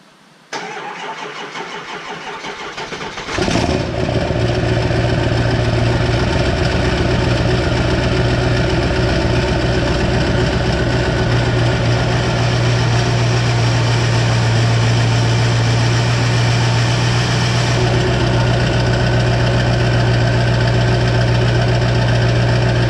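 A 7.3 Powerstroke diesel truck on a nearly dead battery gives a few seconds of low, deep cranking, then fires and settles into a loud, steady, close idle that continues to the end.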